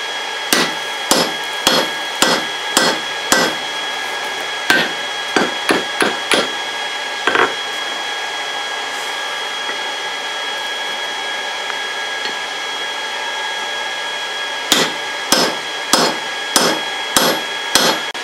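A hand hammer strikes a 2-inch steel billet being forged into a rounding hammer, loud ringing blows in quick rhythmic bursts with pauses between, over a steady roar of a forge blower.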